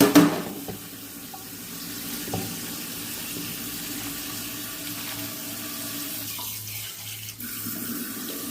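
Water runs steadily from a tap into a blender jar, splashing with a continuous hiss that stays even throughout.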